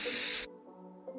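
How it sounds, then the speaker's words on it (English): A short, close burst of aerosol spray paint on armor gives a sharp hiss for under half a second, then cuts off, leaving a faint low hum. "I decided to act on the suggestion that I spray paint my armor"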